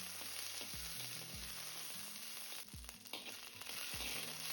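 Mint, curry leaves, green chilli, ginger and garlic frying in a pan, a steady hiss overlaid by repeated stirring scrapes at a regular pace, up close.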